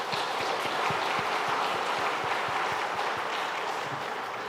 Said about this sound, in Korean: 잠깐 자리에서 일어나실 때 저희가 박수로 함께 격려하도록 하겠습니다.